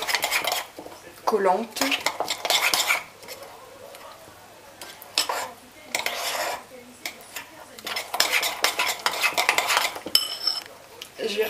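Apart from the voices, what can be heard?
beating Dukan galette batter in a bowl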